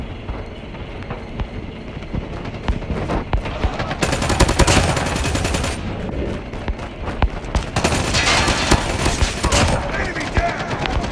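Dense hip-fire gunfire in a ranked Call of Duty Mobile match, loud and continuous with heavier bursts of rapid shots crackling over a constant battle din, no talking.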